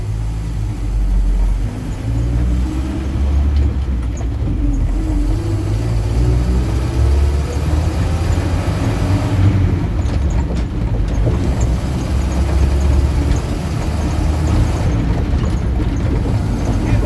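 Engine of a Land Rover Series 2a 109 with a slightly leaking radiator, droning steadily and loudly from inside the cab while it drives, a continuous low rumble with no voices.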